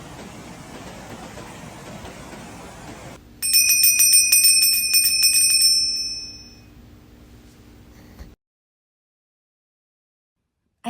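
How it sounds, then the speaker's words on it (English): A single meditation bell is struck to close a mindfulness practice, ringing out clear and bright with a shimmering tone that fades over a few seconds into silence after a soft, noisy background. "In a moment, I will ring a bell, and that will end our mindfulness practice."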